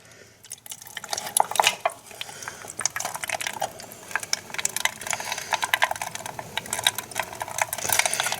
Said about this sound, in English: I'm just going to drain the float bowl